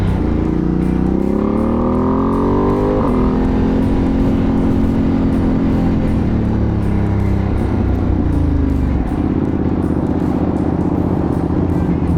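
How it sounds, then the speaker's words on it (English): A 2025 Ducati Panigale V2S with a Termignoni exhaust roars loudly and steadily while riding, its engine note climbing and shifting through gears with smooth rising pitch sweeps and a constant close, heavy drone. "you can actually see and hear the difference from the stock to Termignoni exhaust"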